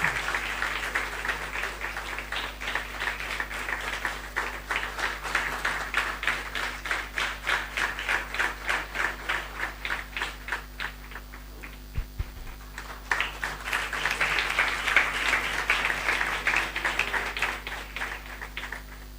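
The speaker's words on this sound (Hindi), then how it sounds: "हम ताली के साथ उनकी धन्यवाद करें।" A congregation at a Bible college convocation applauds a graduating BTh student with long, steady rhythmic clapping that fills the room, eases briefly midway and then swells again.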